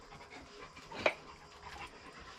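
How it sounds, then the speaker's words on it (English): A German Shepherd dog pants while playing, soft rapid breathy puffs at low level with one brief louder burst in the middle, heard close by without talking. "My German Shepherd dog is playing."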